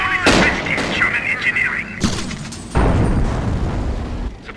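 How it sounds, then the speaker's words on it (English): Gunfire and blasts on a Company of Heroes battlefield with a German machine gun team, sharp shots and heavy booming impacts in irregular bursts, loud and close, while voices call out over the combat. "Machine gun!"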